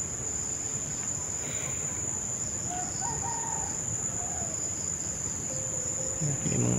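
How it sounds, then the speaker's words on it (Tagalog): Chickens cluck and call faintly in the distance over a constant, shrill chorus of crickets, with a louder call near the end. "May mga boses na ng manok."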